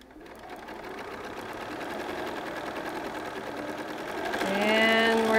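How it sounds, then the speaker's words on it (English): A sewing machine runs steadily, stitching in a rapid even whir that picks up speed and grows louder near the end. "And we're sewing. Sewing that quarter inch seam, roughly."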